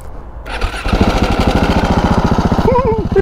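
Husqvarna 701 single-cylinder motorcycle with a Wings exhaust settling into a loud, close idle after a short quieter lead-in, a fast even thudding tick-over with a faint whine rising over the top near the end.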